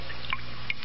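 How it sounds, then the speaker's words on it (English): A dripping-blood sound effect gives a couple of distinct liquid drips over a low, steady background hum. "The sound you hear is dripping blood."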